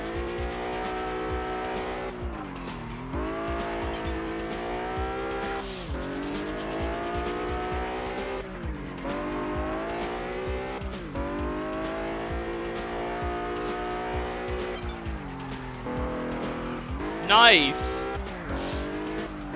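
A grey Lamborghini Miura racing in Test Drive Unlimited, its engine revving up and down through repeated gear changes, with a sharp tire squeal near the end and a voice speaking briefly over it.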